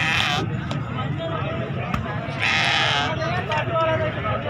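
Young goat kids bleat repeatedly at a busy livestock market, the calls loud and close over a steady crowd murmur and people talking in the background.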